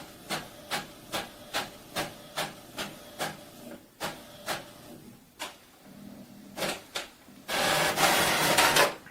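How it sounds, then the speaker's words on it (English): An Epson EcoTank ET-2750 printer runs a duplex job with a rapid series of regular mechanical whirs and clicks, a brief pause, a few more feeds, then a louder rushing pull as the paper is drawn back in, heard close. "So now it's sucking it back to print in on the other side."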